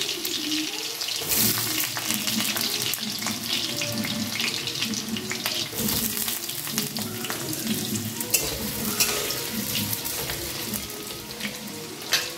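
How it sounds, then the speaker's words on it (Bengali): Potato pieces frying in hot oil for pumpkin chokka, a dense continuous sizzle with stirring and bubbling close by throughout. "তেলটা আমার গরম হয়ে গেছে, আমি প্রথমে আলুগুলো ভেজে নিচ্ছি।"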